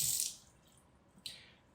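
Cold water running from a tap, heard in two brief, faint hissing bursts separated by a quiet gap.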